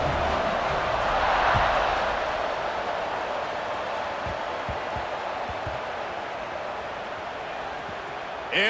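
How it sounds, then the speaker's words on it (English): A football stadium crowd keeps up a broad, steady roar of cheering throughout the whole stretch, loud and diffuse with no single voice standing out. "this crowd is feeling themselves after that last drive"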